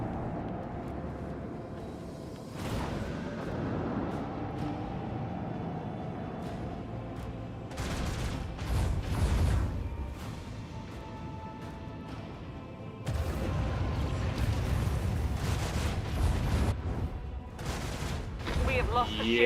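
Torpedoes are destroyed by other torpedoes in a Warhammer 40k Rogue Trader space battle, with bursts of booming explosions and crashing blasts in clusters, loud and close, while people talk over them.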